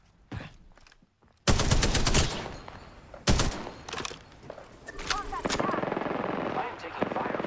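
Close automatic fire rattles in Apex Legends, a long dense burst followed by shorter volleys and scattered shots, with quieter game sounds between and a voice speaking at points.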